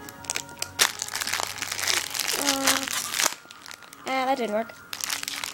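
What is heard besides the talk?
opening a plastic fortune cookie wrapper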